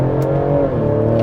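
A 2024 Ford Explorer ST engine pulling in second gear in sport mode, a loud, close drone that climbs in pitch across a brief burst of acceleration, with induction noise over the engine tone.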